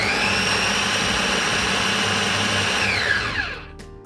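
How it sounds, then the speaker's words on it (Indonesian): A kitchen blender whirs steadily at high speed, blending food for Turkish chiğ köfte, a loud close motor drone that winds down and stops near the end. "Terus nanti di blender ya"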